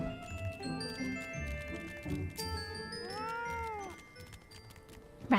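A fat cat mount in Final Fantasy XIV gives a clear, close, drawn-out meow in the middle, over light music and chimes, followed by a short sharp sound at the end.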